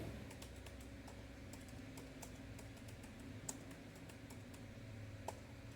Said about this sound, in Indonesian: Di sini kita ketik lagi.